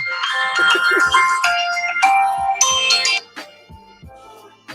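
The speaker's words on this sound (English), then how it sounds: "The phone just started ringing out of nowhere." A phone ringtone plays loudly and repeatedly in a room, a bright, rhythmic electronic melody that cuts off after about three seconds, followed by quieter background noise.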